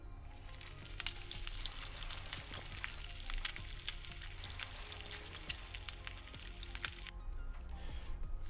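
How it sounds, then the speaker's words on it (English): Bacon sizzling in a pan, a continuous crackling hiss dense with tiny pops, fairly close and steady, cutting off near the end. "frying bacon to get that sizzling noise"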